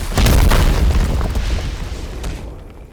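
Atomic Blast attack in a video game, a single heavy booming explosion that hits hard and rolls off into a fading rumble.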